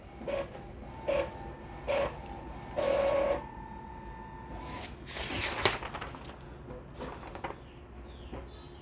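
An Epson EcoTank L3150 ink tank printer printing a black page, with four short mechanical whirring pulses followed by a steadier feed and a louder paper rustle, heard close with no talk.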